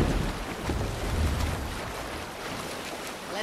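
Viking longship sailing over open sea in Assassin's Creed Valhalla, with steady rushing waves and wind noise, a continuous wash of water beneath the hull and no speech.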